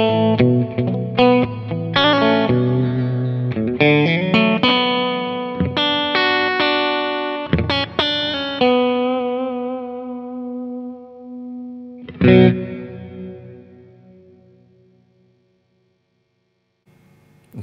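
A guitar runs through an affordable reverb pedal set to a modulated hall, with chords and notes ringing into long, shimmering tails; a final strummed chord rises loudly near twelve seconds and fades slowly to silence.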